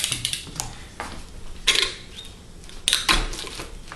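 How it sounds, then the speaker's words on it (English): Razor knife trimming cured fiberglass edges, giving scattered scraping and cutting strokes with a few sharper crackling bursts, close and fairly loud, with no talking. "this is how I trim the edges. I use a razor knife and a file."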